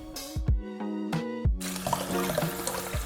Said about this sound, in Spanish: les vamos a pasar por agua para ver cómo se escurre toda esta babita